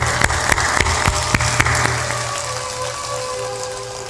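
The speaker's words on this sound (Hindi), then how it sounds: "ऊपर ऊपर ताली भी बजा दो।" An audience at a spiritual discourse clapping with hands raised, a run of loud, rhythmic unison claps that thins out into a softer scattered patter, with no speech over it.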